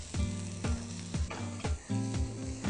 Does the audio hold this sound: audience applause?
no